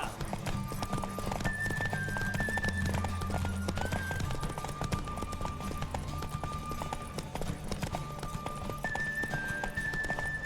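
Rapid clip-clop of hooves at a gallop in The Witcher 3 video game over steady background music, with a brief horse whinny mixed in; continuous and fairly loud.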